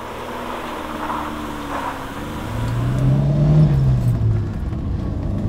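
A classic Alfa Romeo Giulia 1750 GTV 105-series coupe drives along with a steady engine drone heard from inside, and the pitch rises as the car accelerates partway through. No one talks.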